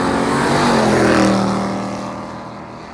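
A Plymouth Roadrunner and a Ford Galaxie drag race, their loud engines roaring close by as they pass, then fading into the distance.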